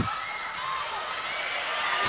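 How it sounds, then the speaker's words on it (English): Crowd cheering fills a volleyball arena during a DLSU vs ADMU match, a steady, dense roar of many voices that swells slightly toward the end. "And the crowd loves it."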